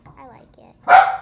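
A pet dog barks once, loud and close, after a stretch of quiet talk, the sharp bark ringing briefly before fading, with a person speaking in the background during a Roblox gaming session at home.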